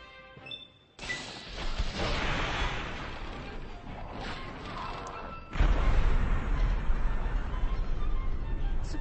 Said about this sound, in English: I'm gonna switch to the Fat Man, which is a mini nuclear bomb catapult